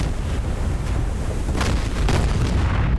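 Defensive missiles launching in a war game simulation, heard as a sustained, loud low roar with rumbling bursts and gusty hiss running throughout.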